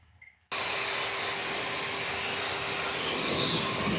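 A pet dryer blowing on a dog after grooming a matted coat, switching on abruptly after a brief quiet moment and then roaring steadily and loudly up close.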